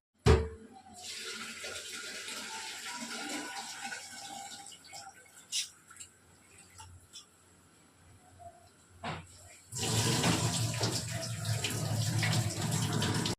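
Rice being rinsed in water before soaking: faint splashing and trickling with a few louder splashes, then a steady, louder rush of running water from about ten seconds on.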